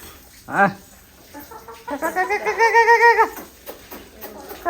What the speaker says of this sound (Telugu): దా ఇగో ఈయన కోడి పుంజు.